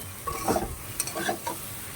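Potatoes for a vegetarian aloo dum are stirred and fried in a pan, a soft sizzle broken by a few scraping strokes of a spatula, close and moderate in level with no talking.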